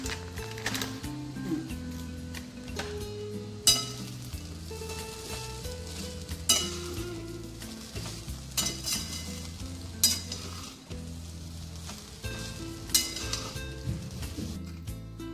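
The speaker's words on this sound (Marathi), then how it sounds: "मंचुरियनचे जे बॉल्स आहे ना, तर ते मी आता तळून घेणार आहे. एकदम डीप फ्राय करणार आहोत आपण ते." Veg manchurian balls deep-frying in hot oil in a kadhai, a steady close sizzle running throughout with occasional clinks of a metal spoon against the pan.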